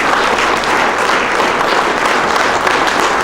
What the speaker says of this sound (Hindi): आपके डायरेक्टर सर के लिए जोरदार तालियां हो जाए